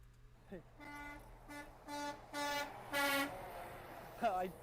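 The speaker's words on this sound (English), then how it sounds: "in the trucking world, that means honk your air horn" A truck air horn honks in a series of about five blasts that grow longer and louder, followed by one short final toot.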